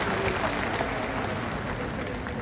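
Audience applause at the OTOP Mid Year 2025 fair at Muang Thong Thani, where the Prime Minister opened the event: a steady, dense wash of many hands clapping at once, fairly soft and unbroken, with faint voices mixed in.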